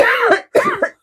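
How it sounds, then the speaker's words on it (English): Two or three sharp, close coughs sound in quick succession, loud and alone. "because it always makes me cough"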